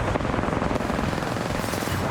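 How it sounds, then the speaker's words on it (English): Dense, continuous gunfire from Apex Legends during a competitive match, a rapid stream of shots forming an unbroken loud burst. "Blind fire here from Timmy."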